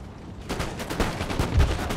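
Massed musket volley fire on an Empire: Total War battlefield, a burst of crackling gunfire starting sharply after half a second and rolling on as layered, distant-sounding shots with a heavier thump near the end.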